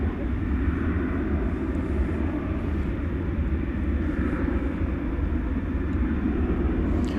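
FedEx aircraft on the west side main runway at DFW Airport at night, heard as a steady low rumble of engine noise that holds even throughout with no voices.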